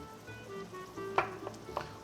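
Onions and champignon mushrooms fry in a pan for mushroom soup, giving a steady close sizzle broken by a few sharp knocks of stirring against the pan.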